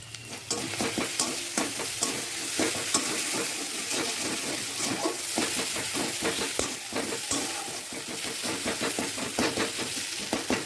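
Onions fry with chili powder in a pan, a steady loud sizzle broken by frequent scraping stir strokes in an irregular rhythm throughout.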